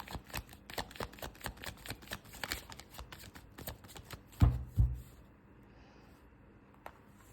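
Tarot cards being handled and shuffled, a soft, close riffling flutter in quick repeated bursts, followed by a couple of duller taps as the deck settles and then near silence.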